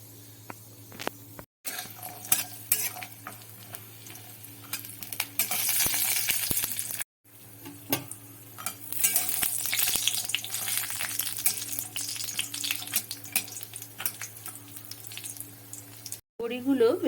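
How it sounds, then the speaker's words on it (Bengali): Bori lentil dumplings frying in a few spoons of hot refined oil in a wok, a crackling sizzle with scattered pops and stirring clatter, steady under a low hum and broken by brief silent cuts. "প্রথমে আমি বড়িগুলো ভালো করে ভেজে নেব।"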